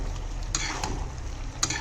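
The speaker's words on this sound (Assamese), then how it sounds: "এতিয়া আকৌ জুই ফ্লেমটো অকণ বঢ়াই দি পেলাই ভাজিম" Duck meat and potatoes fry in a pan over a raised flame, giving a steady soft sizzle with a few faint scraping stirs and clicks.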